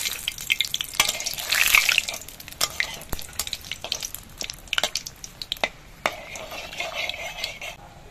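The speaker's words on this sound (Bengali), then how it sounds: "তেলটা গরম হয়ে গেছে, এবার এর মধ্যে দিয়ে দিচ্ছি তেজপাতা" Bay leaves and dried red chillies fry in hot oil, giving a sizzle with steady crackling, scattered pops and stirring clicks, close and moderately loud, with no talk.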